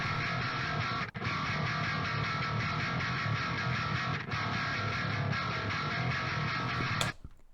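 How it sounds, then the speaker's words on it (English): A thick, heavily distorted bass tone drones loud and continuous, briefly dipping twice before cutting off abruptly near the end. "everybody uses a distortion pedal"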